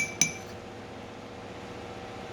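A spoon clinks against a glass holding a barley drink, two bright taps at close range, one near the start and another at the very end, with a faint steady background between them.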